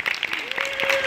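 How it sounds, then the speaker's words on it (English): Scattered audience clapping at a hypnotist stage show, uneven claps under a crowd's murmur, with a sustained tonal whistle or whoop rising partway through. "Give them all a nice round of applause up here."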